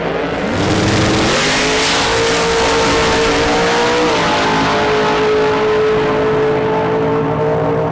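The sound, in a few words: Nissan GTR drag racing pass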